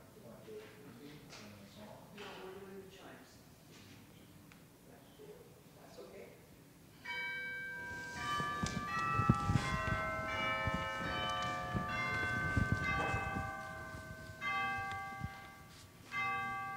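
Church chimes ring at the opening of a Sunday worship service; after a quieter stretch with faint room sounds, a clear sequence of sustained bell tones sounds loudly, overlapping and fading.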